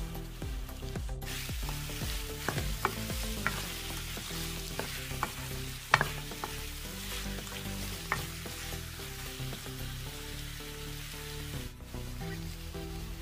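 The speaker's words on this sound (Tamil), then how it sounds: "இப்ப இதை வந்து சேர்த்து நல்லா வதக்கிக்கலாம்." Chopped bottle gourd sautés in a pan with a steady, fairly quiet sizzle, broken by irregular clinks and scrapes of a spatula, and no one speaks.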